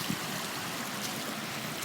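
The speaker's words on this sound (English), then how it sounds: "rain, rain, rain everywhere" Heavy rain falls and water runs in a steady, dense roar, constant and close with no pauses.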